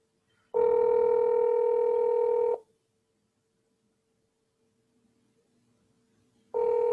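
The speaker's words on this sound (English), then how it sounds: "let me try to reach her by phone" A telephone call rings out on the line: a steady electronic tone lasting about two seconds, followed by roughly four seconds of near silence, then the tone starts again.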